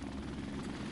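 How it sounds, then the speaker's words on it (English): A helicopter in Modern Warfare Remastered gives a faint, steady rotor drone, a low continuous hum with no talk over it. "because of a fucking fat helicopter"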